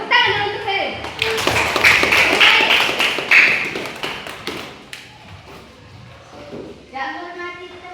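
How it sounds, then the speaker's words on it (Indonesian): A class claps for a student, with quick overlapping hand claps and taps building to a brief burst, then trailing off as a voice speaks over the tail. "Tepuk tangan dulu untuk Ferin."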